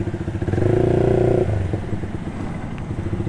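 A motorcycle engine idles and revs loudly in heavy Saturday-night traffic congestion, with a steady droning hum that swells for a second before settling into a rougher, clattering idle among other vehicles.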